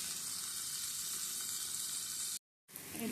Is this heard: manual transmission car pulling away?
no